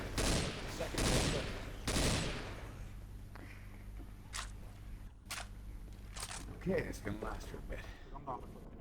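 Gunfire in the video game Left 4 Dead 2: several heavy bursts of shots early on, then scattered single cracks, mixed with players talking over the action.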